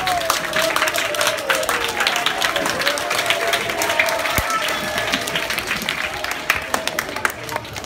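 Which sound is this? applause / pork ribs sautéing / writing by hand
applause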